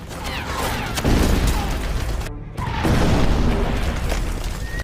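A steel tank fires in a film action scene: loud booming blasts with rumbling debris, a first hit near the start and a heavier second burst after a brief silence.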